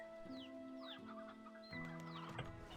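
Rooster clucking in Slime Rancher 2, several short repeated clucks and squawks over a steady tonal game hum, moderately close.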